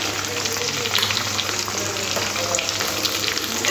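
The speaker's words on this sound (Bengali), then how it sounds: "হালকা একটু ভেজে নেব পেঁয়াজ আর ক্যাপসিকামটা।" Onion and capsicum fry in a pan with a continuous, even sizzle and fine crackle close by, steady throughout with no voices.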